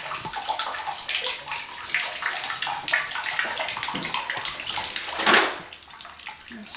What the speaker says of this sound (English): It still drips water. It's just a continuous drip, and it's hot water from the hot water heater.